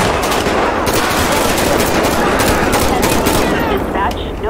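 Automatic rifle fire in the LSPDFR police mod for a video game, a loud, dense, continuous burst of rapid shots that runs the whole clip and eases slightly at the end.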